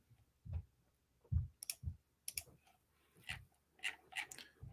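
Keyboard typing in short irregular bursts of clicks and taps, fairly close and moderately loud, with brief pauses between flurries and no talking.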